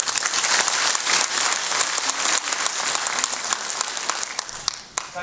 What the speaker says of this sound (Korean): 정말로 힘찬 박수, 격려의 박수 한번 부탁드립니다